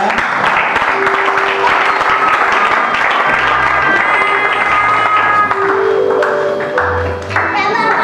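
A church congregation applauds and cheers to acclaim the Lord at a pastor's 20th anniversary celebration, loud sustained clapping with a few cheers and voices mixed in, while a tone sounds faintly in the background.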